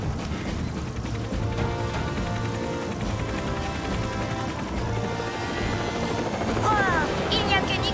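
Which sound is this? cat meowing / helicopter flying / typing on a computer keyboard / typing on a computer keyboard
helicopter flying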